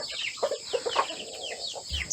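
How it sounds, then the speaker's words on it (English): Freshly fed hens cluck and chatter on a coffee estate in Coorg, India, with a steady run of close, overlapping clucks and calls and no talking. "So they have just fed the hens."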